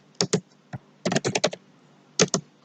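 A computer keyboard being typed on while entering test data, in short separate bursts of close, crisp key clicks with brief pauses between them.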